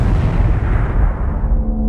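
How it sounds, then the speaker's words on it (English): A video game explosion in a park lets out a dense, loud rumbling blast that roars steadily and then slowly decays, with no voices over it. "We got explosion in your park."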